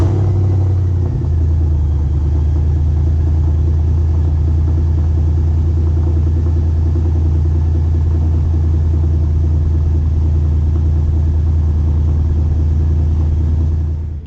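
Whipple-supercharged 2015 Mustang GT making over 700 horsepower, idling with a deep, loud, steady rumble right up close, a slight shift near the start, and no voices.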